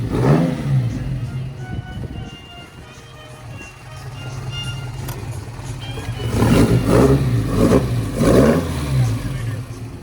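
An Alfa Romeo GTV engine at a car show revs several times, rising in pitch and volume in repeated surges over a steady mid-pitched idle, with ambient crowd noise around it.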